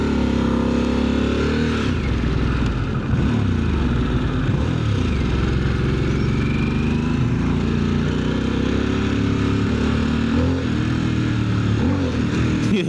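A 2025 Harley-Davidson Sportster S V-twin rumbles loud and close while being ridden, its engine pitch rising and falling with throttle changes over a constant roar of wind and road noise.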